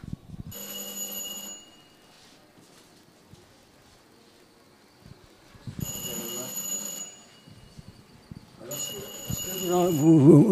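A bright electric signal bell on a mine shaft model rings in three separate bursts, each about a second long, with quiet talk and handling noises in between.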